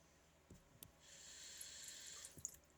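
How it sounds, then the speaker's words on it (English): A faucet runs briefly in a quiet room, a soft steady hiss of water starting and stopping, with a few small clicks around it. "A little bit of water."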